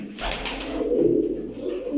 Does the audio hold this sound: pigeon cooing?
yes